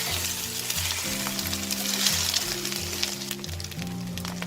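An egg fries in a pan with a loud, continuous close sizzle, steady throughout, while a low music bed plays underneath.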